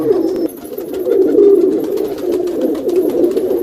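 Pigeons coo continuously in low, throaty, rolling calls, several birds overlapping close by with no pauses.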